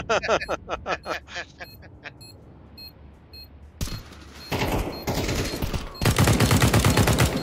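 Rapid gunfire in Counter-Strike 2 on the Nuke map, with a burst of sharp shots at first, then a dense stretch of loud automatic fire and blasts, while players talk over the action.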